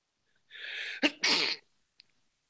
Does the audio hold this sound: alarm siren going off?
no